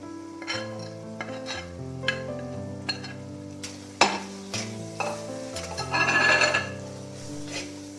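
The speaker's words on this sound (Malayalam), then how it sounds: "ഒരല്പസമയം ഇളക്കി കൊടുക്കണം" Turmeric, coriander powder and garam masala stirred in a frying pan for vegetable biryani: a spoon scrapes and clinks against the pan in irregular strokes over a soft sizzle, with one louder knock partway through, and background music plays.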